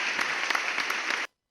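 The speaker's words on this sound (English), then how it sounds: "A round of applause. Round of applause." A short, lively burst of clapping from a small group on a podcast lasts just over a second before cutting off abruptly into silence.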